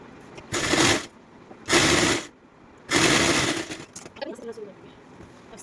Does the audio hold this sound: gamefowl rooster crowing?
no